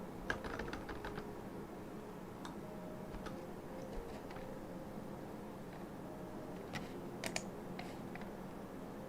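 A loud computer keyboard clicks in scattered bursts of typing, with quiet pauses between keystroke runs, close and alone over a faint room hiss.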